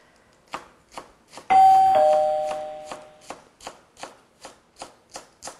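Green onions are sliced diagonally into long pieces, white parts included, with a knife tapping the board in a steady rhythm of crisp close chops; a loud ringing chime cuts in partway and slowly decays under the cutting.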